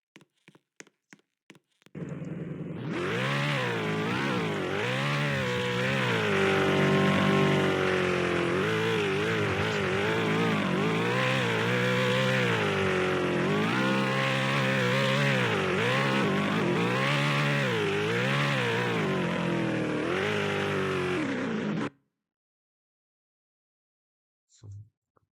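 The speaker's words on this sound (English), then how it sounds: "we have a modified Toyota Majesta and we can drive it" A modified Toyota Majesta driven in Roblox gives a loud, continuous engine drone that rises and falls as it revs and shifts, holding for about twenty seconds before cutting off abruptly.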